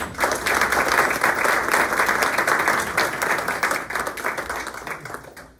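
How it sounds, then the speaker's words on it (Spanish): Sustained applause from an audience at a Catholic university students' gathering, dense and steady, with a few sharper claps near the end as it tapers off. "Un fuerte aplauso para nosotros también."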